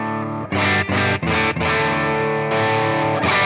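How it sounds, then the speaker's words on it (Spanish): Electric guitar overdriven through a BB preamp pedal on a reggaeton pedalboard, saturating heavily as it is played harder; loud, sustained distorted chords with short breaks between strums, no voices. "si empiezo a tocar más power, empieza a saturar más"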